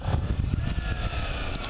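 A 2013 Kawasaki Ninja 300 motorcycle engine revving with the clutch pulled in before a clutch dump for a wheelie, a steady close-up drone with rapid pulsing and wind-like noise, no voice.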